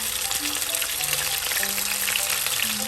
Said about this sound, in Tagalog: Ipa-fry ko po siya ng saglit